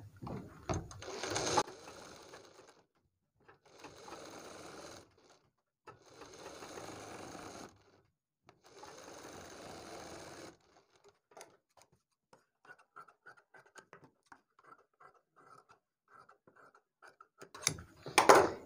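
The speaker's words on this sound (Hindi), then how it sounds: "अब इसको हम सिलाई लगा के जमा लेंगे" A sewing machine stitches the neckline of a kurti in four close, steady runs, then gives way to softer intermittent clicking and ticking from the machine.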